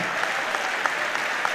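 An audience at a presidential Medicare executive order signing claps steadily, a dense, even patter of applause from a crowd, close and loud with no speech over it.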